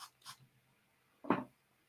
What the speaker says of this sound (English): I'm just spraying the back of it